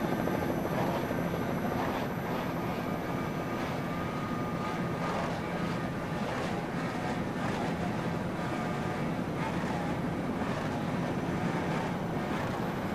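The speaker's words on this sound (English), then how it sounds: "Lee Murray pushing the throttles forward on the Hog's Breath, trying to get the lead away from Paul Whittier and Gary Ballou" Offshore racing powerboats at full throttle during a 2006 world championship race off Destin, Florida, give a loud continuous engine roar mixed with wind rush, steady and heavy throughout.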